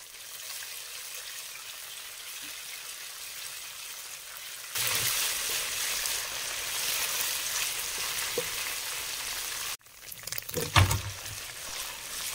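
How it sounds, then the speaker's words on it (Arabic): Garlic cloves and a spoonful of tomato paste fry in oil over lowered heat, a steady close sizzle that jumps louder partway through as the garlic goes in, with brief stirring clatter near the end. "ونزيدو 3 فصوص تاع الثوم كنت رابيتهم"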